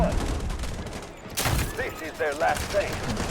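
Bursts of gunfire in the video game Delta Force crackle through a noisy in-game mix, with a louder volley around the middle, while a voice speaks over the action.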